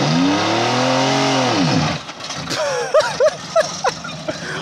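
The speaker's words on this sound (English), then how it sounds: "here's what happens when your transmission locks up and you can't move your car at all" A car with a locked-up, blown transmission and locked torque converter strains loudly, its engine note sagging and dropping before falling away into scattered clunks, and voices shout over it near the end.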